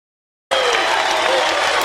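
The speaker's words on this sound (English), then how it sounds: "Now there's a lot of applause, and it's a little bit loud." Loud, dense applause from a large audience bursts in abruptly after a brief silence and holds steady as a continuous roar of clapping with no talk over it.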